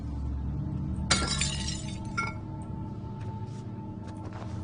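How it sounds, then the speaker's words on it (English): Glass wine bottles smash in the horror video game Amnesia, one loud shattering crash followed by a smaller second break, then scattered tinkling fragments over a low ambient drone. "Smashing all the wine bottles."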